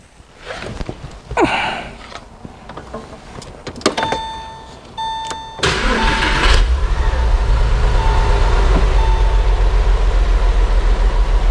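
Porsche 911 996 Carrera engine running rough: a loud, steady low rumble sets in about halfway through and continues to the end, preceded by scattered clicks, short tones and handling noises.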